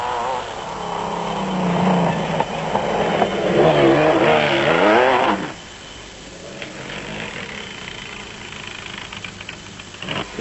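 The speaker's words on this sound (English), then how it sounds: "Greg Harvey and Lionel Acton were pushing their Queen Motorspares raceco as hard as it would go to score their first points of the season." An off-road race car engine revs hard and roars nearby for several seconds at an off-road race in South Africa, pitch climbing and wavering, then drops to a quieter, steadier drone.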